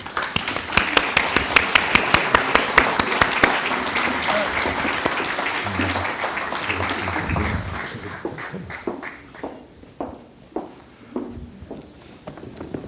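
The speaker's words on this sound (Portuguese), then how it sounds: "a quem peço para uma salva de palmas, por favor" An audience applauds to welcome a guest onstage at a talk event, a dense burst of clapping that thins out after about eight seconds into scattered individual claps and a few footsteps.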